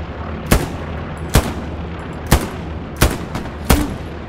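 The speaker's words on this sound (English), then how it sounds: "That sounds like an MG32." Five heavy, well-spaced shots from an MG32 machine gun ring out in a video game firefight, each a sharp loud crack with a short tail over a low background rumble.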